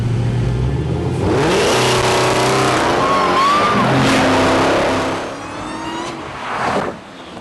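A 2018 Dodge Demon and a Bugatti Veyron launch side by side from an arm-drop drag start in a fire lane, engines roaring loudly as they rev up and pull away, with tire squeal and rising gear-shift tones fading toward the end.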